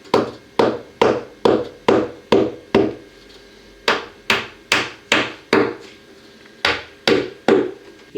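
Wooden plugs tapped into place with PVA glue during window sill work, loud sharp hammer knocks on wood in quick rhythmic bursts of four to six strikes, with brief pauses between groups.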